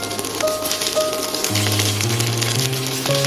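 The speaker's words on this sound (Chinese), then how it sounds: "接下来再把鸡蛋清慢慢倒进来，然后慢慢翻炒，炒至鸡蛋清凝固" Egg whites stir-frying in a wok for egg fried rice, a steady close sizzle with a faint tonal hum, no talk.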